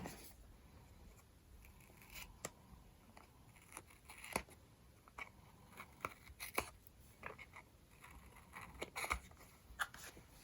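Scissors trim the edge of a paper sympathy card in a quiet room, a string of faint crisp snips and paper rustles spread unevenly across the stretch.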